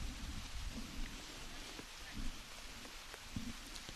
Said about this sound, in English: The drizzle's gone to a little bit more rain. It's making a bit of noise on the roof of the tent here.